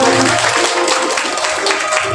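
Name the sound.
wedding guests applauding bride and groom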